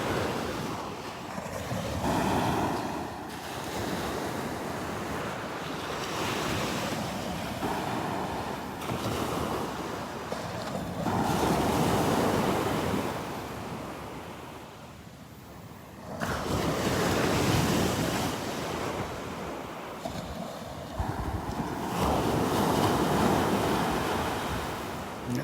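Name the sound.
ocean waves at the beach, Delnor-Wiggins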